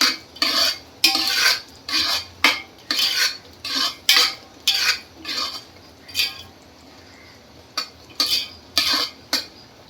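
A spoon stirs a thickening sugar-and-mango mixture with cardamom and cloves in a pan, giving a steady run of loud, rhythmic scraping strokes about twice a second, with a brief pause near the end.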